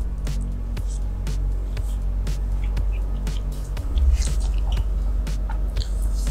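Close, wet chewing and biting on a soft durian crepe cake, with repeated small crunchy clicks and squishy mouth sounds over a steady low background hum, with no talk.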